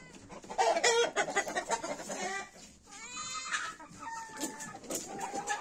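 Chickens and a rooster clucking up close, several birds with bursts of cackling and drawn-out calls overlapping.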